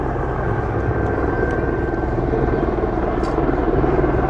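LAPD police helicopter descending over Los Angeles, its rotor giving a steady, loud, continuous thudding drone with no talk over it.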